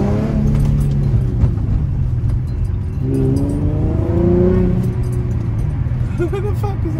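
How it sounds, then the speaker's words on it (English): A naturally aspirated VQ35DE engine with individual throttle bodies revs from inside the car. Its loud, strong intake note climbs and falls in smooth sweeps over a steady road drone, and people talk over it. "you give it a rev and it just like holds a bit"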